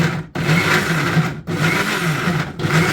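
A kitchen blender whirs steadily while blending beetroot with water, a loud continuous motor drone broken by two short pauses where the speed dips before resuming.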